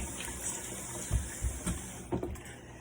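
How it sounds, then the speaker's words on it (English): A cloth being rinsed under a running warm-water tap, a steady gushing stream with a few splashy, sloshing bursts as the fabric is worked, close and moderately quiet, no talking. "All I'm doing now is running it under some water, warm water, and I'm going to rinse it out."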